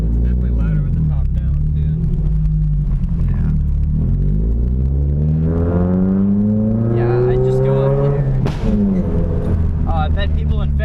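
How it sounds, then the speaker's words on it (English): A loud Mazda MX-5 Miata sports car engine roars and revs continuously, its pitch rising and falling with acceleration, close up and dominant throughout. "As far as Miatas go, it's pretty loud."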